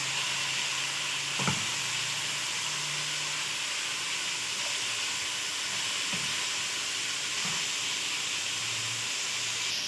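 Chicken with julienned carrots, capsicum and cabbage stir-fries in a hot pan for chow mein, giving a steady sizzling hiss with a few faint scrapes of stirring, close and even throughout.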